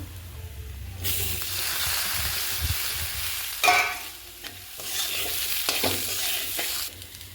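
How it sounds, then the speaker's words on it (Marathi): Cluster beans stirred and fried in a spice masala in a pan for a simple Maharashtrian gavar bhaji, a steady broadband sizzle with repeated scraping stir strokes, close and continuous with no talk. "आता यामध्ये गवारी मिक्स करूया आपण."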